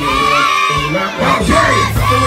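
A crowd of children screams and cheers at a clown dance show, loud and sustained, a dense wall of shouting voices close by.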